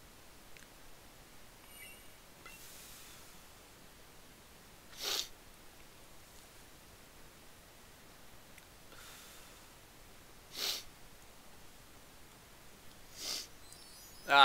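Person with a runny nose sniffling and snorting: several short, sharp, close nasal sniffs spaced a few seconds apart over a quiet room background.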